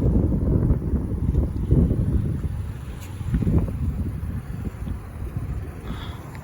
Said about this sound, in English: it is freaking windy and cold out here